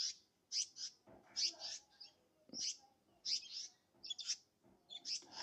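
Small birds chirp and tweet in short, repeated bright bursts through the background, steady and fairly close, with a low murmur underneath.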